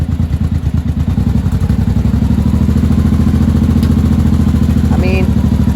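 A 1983 Honda motorcycle engine idles low and steady close by, a loud, even chugging pulse that runs without a break.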